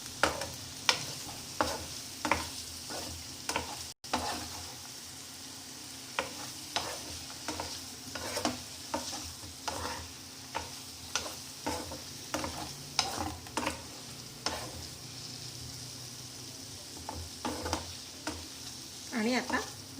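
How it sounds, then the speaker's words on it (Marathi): Paneer cubes frying lightly in a pan for matar paneer, a continuous sizzle punctuated by regular scraping and tapping stirs, close and fairly loud, without talk. "हलकंच फ्राय करायचं त्याला थोडं"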